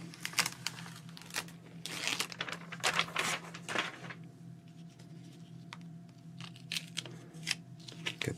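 Scissors snipping around real autumn leaves for a journal page, with paper and leaf rustling between the cuts; a close, busy stretch of crisp snips that thins out into sparse clicks, with no voice.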